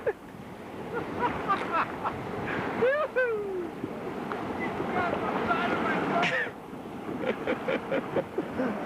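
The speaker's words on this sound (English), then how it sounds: "Look at that whitewater." Ice-cold whitewater rapids churn during a rafting trip in a steady, rushing roar. Excited shouts and yelling voices ring out over the water throughout.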